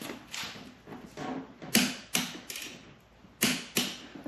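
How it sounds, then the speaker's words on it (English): A torque wrench tightening seat bolts on a C7 Corvette during a competition seat swap, heard as a close series of sharp, quiet mechanical clicks in an uneven rhythm. "we'll set our torque wrench to 33 inch-pounds."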